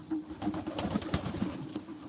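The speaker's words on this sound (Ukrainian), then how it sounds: "Там сарай, де всі голуби живуть." Several pigeons coo softly and repeatedly nearby, low throaty murmurs overlapping in an irregular rhythm over faint background noise.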